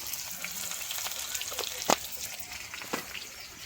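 Cumin seeds crackle and sizzle in hot oil for a tempering, a faint steady frying hiss with a few sharper pops and a stir clink, heard close and quiet.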